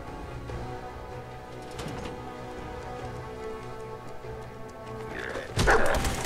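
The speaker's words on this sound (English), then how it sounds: "My dog went in." Dog barking in the video game Fallout 4, a few soft, distant barks over steady rain and ambient game hum, then a sudden louder burst near the end.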